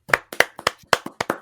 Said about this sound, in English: I'm going to give you a clap for that.